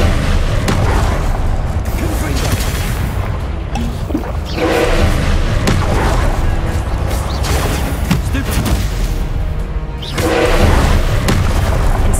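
The Incendio fire spell is cast in the PS5 game Hogwarts Legacy, producing dense roaring booms and whooshing blasts that swell and fade in repeated waves, loud and continuous.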